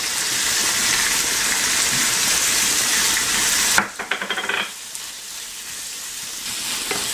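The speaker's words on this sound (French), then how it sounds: "et je vais remuer le persil. Le persil haché." Chopped parsley stirred in a sizzling pan while cooking a Tunisian dish, with steady loud frying hiss followed by a few clinking scrapes of the utensil and a quieter sizzle afterward.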